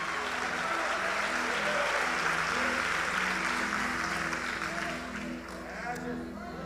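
A church congregation applauds in sustained, dense clapping that fades slightly near the end, while a voice talks over it.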